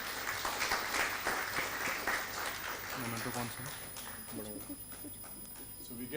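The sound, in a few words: conference audience applause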